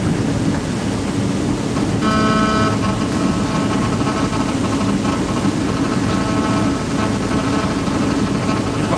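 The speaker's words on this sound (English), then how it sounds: "Engine's revving up." A Thames Clipper river boat's engine revs up, a loud continuous rumble with a rising tonal whine emerging partway through and holding steady, close and constant.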